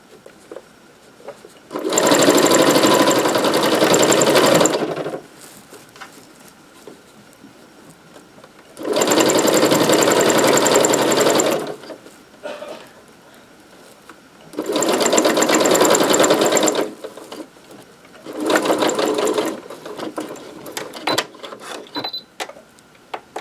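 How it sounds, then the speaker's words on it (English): A sewing machine top stitches a double pot holder with batting inside, running in four loud, steady bursts of rapid stitching separated by short quiet pauses. "I do want to top stitch this down, so we're going to go ahead and sew a little bit more"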